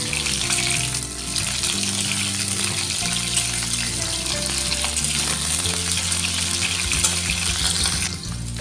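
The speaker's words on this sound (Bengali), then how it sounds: "আলুগুলোর মতো আমি ফুলকপিগুলো লাল লাল করে ভেজে নেবো" Cauliflower florets fry in a wok, being browned to a reddish colour, with a steady, dense sizzle and occasional stirring running unbroken at close range and no voices.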